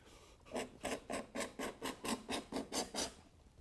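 A sharpened hand scraper pulls across a wood floor to shave off fibers, making about eleven evenly spaced rasping strokes in a steady rhythm, close and fairly quiet.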